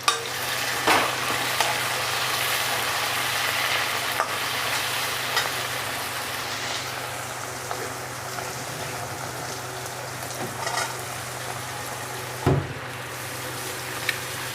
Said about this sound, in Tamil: தக்காளி போட்டு கொஞ்சம் கொத்தவரங்காய் போட்டுக்கலாம் வதக்கிறதுக்கு